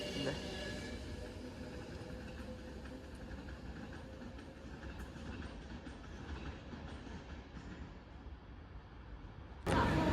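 A Class 66 diesel locomotive rolls through a station at Stoke-on-Trent, a steady broadband rumble of engine and wheels sustained throughout, close and fairly loud, with a sharp louder burst near the end.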